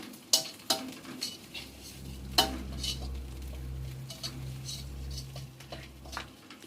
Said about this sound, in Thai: เดี๋ยวเราจะผัดพริกให้มันหอมก่อนนะคะ